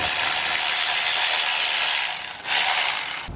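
Ratchet working on 12mm bolts of a 2017 Subaru Forester XT, a rapid clicking pawl run, a brief pause, then a second quick burst, close and clear.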